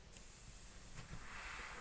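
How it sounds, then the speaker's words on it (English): A cat-deterring airbrush gives a steady faint hiss of spray indoors at a work table, a continuous airy sound lasting under two seconds with no talk. "Don't make me use the airbrush."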